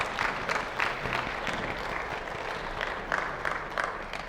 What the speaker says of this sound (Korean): 함께 우리 박수로 환영 인사 나누도록 하겠습니다.